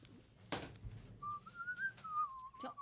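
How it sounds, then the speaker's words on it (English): A person whistles a short, wavering single-note tune after a soft thump, fairly close and clear in a quiet room, lasting about a second and a half. "Don't whistle."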